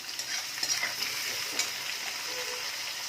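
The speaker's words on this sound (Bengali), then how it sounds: "দিয়ে পেঁয়াজটাকে একদম নরম করে এখন আমরা ভেজে নেব।" Onions with a pinch of salt fry in a pan for mutton curry, giving a steady broadband sizzle with soft scraping stir strokes throughout, close and moderately loud, with no talk.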